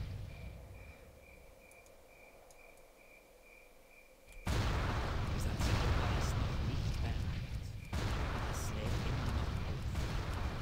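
Mortar bombardment in the World of Warcraft game as a mortar fires on attackers: after a quiet ambient stretch, a sudden loud, dense roar of blasts and rumbling fire that holds steady, while someone talks in German.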